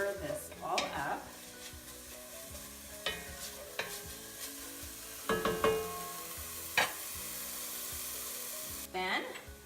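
Spices and turmeric being stirred in a pot, with scattered spoon scrapes and clinks against the metal over a steady background hiss, including a louder cluster of strokes midway and another near the end.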